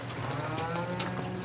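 A single low moo from cattle in a corral during a three-day cattle drive, heard fairly close and sustained over a quiet outdoor background.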